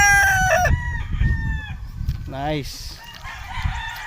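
A rooster on a gamefowl farm crows loudly and close at the start, then someone speaks briefly amid further rustling and faint bird sounds.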